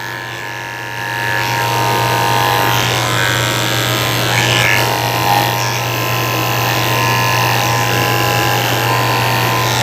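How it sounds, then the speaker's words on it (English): Electric clippers with a blade hum steadily and close up while shaving the top of a miniature schnauzer's head at a groomer, a continuous buzzing drone over mains hum lasting throughout. "I'm going to shave the top of his head, the side of his face, and his ears with a tin"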